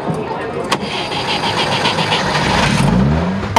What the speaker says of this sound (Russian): Александр заводит свою детскую мечту – ГАЗ-69А